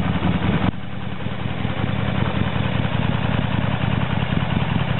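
A 1997 Harley-Davidson 1200 Sportster idles steadily up close, a loud, even, throbbing engine rumble that continues without a break and without anyone talking.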